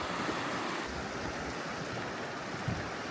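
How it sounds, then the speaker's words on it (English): River water rushes steadily under a bridge on a rainy day, a dense, unbroken broadband flow that is close and moderately loud with no voices. "Plenty of water flowing at the moment."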